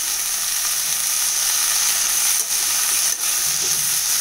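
Fenugreek leaves sauté in a pan with a steady, bright sizzling hiss that stays constant and close, broken only by a couple of brief dips.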